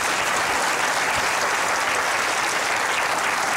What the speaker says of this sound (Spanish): recibamos como se merece, con un fuerte aplauso, a Jaime Marrero